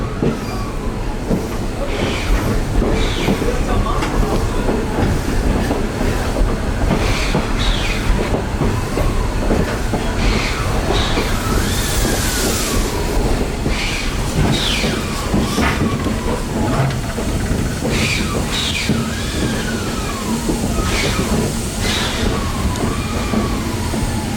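A model train rumbles steadily along the track, wheels clacking and squealing at intervals, loud and close throughout.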